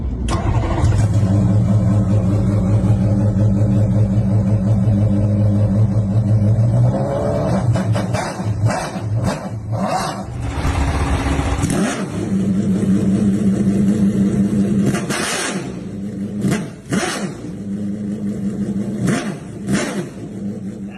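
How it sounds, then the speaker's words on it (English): A BMW M3 GTR race car engine fires up and idles with a deep, loud, lumpy rumble, then breaks into repeated sharp revs and throttle blips, close up and with no talk. "This one you gotta make sure you're in neutral, and then fire this thing up."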